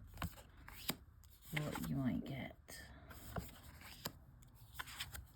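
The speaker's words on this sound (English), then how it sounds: "And I will do a shuffle" Oracle cards with a non-glossy finish being shuffled up close, a soft riffling flutter with crisp taps, while a quiet voice speaks briefly.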